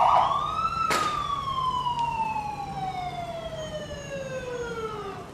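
A fire department ambulance siren in a street parade winds up sharply, then wails in one long slowly falling tone, loud and fairly close, with faint crowd and road noise underneath and a brief horn blip.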